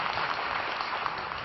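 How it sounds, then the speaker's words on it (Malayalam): Audience applause at an award ceremony honoring a recipient: a brief, dense wash of many hands clapping, steady and fairly loud, with no talk. "നിറഞ്ഞ കയ്യടിയോടുകൂടി നമുക്ക് ഈ ഗുരുതരനെ ആദരിക്കാം."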